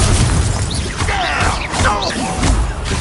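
The Confringo explosive spell is cast in Hogwarts Legacy, producing loud, booming blasts and crashing bursts over a dense, rumbling wash of game noise that stays high throughout.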